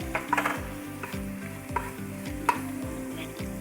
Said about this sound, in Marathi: आता आपण कढीपत्ता घालूया